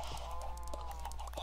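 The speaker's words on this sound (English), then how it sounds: "All the chickens are, like, trying to migrate themselves out of here." Chickens cluck in a modded Minecraft game, with several soft, scattered clucks over a steady low hum, faint and without talk.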